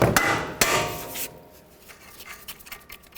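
Metal hammer blows driving strut bolts out on a 2007-2010 Chrysler Sebring, two sharp close strikes followed by quieter scraping and tapping of tools.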